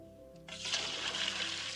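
Water poured over a person's head to rinse out soap: after a quiet moment a sudden splashing gush starts and keeps streaming, close and moderately loud.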